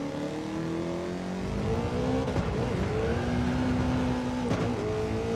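A 700-horsepower race car engine in Gran Turismo 7 revs continuously through gear changes, the pitch climbing and dropping with each shift and a faint tire squeal, loud and steady with no voices.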